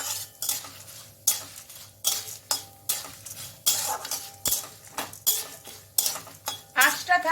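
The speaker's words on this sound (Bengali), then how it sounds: "এবার 1 মিনিটের মতো এই বাদাম আর কারি পাতাটা ভাজবো।" Peanuts and curry leaves fried in a pan for lemon rice, with close metallic spatula strokes scraping and clinking in a regular rhythm about every half second over a light sizzle.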